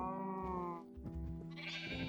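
Sheep bleating in the Minecraft modpack TerraFirmaPunk 2.0, one sustained wavering bleat followed by a second higher bleat, close and clear over a faint background.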